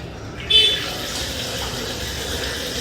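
Tap water runs steadily into a kitchen sink during cleanup after washing shoes, a continuous broadband gush with a brief louder splash near the start.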